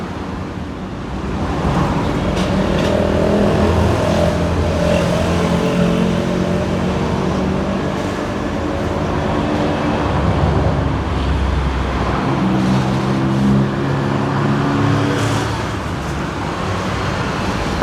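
Dense road traffic at the Kasat Suek–Yotse intersection on Krung Kasem Road in Bangkok, near a police checkpoint: a continuous roar of engines and tyres, with vehicles rumbling close by and idling, no voices.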